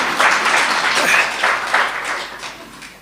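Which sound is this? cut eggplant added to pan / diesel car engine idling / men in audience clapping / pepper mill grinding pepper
men in audience clapping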